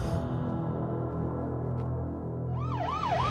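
An ambulance siren wails in during a tense hospital emergency scene, rising and falling in clear sweeping tones over a dense music score for the last second or so.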